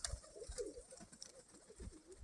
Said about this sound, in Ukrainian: ще дві красненькі голубки вискочили